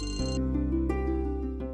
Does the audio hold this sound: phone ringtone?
yes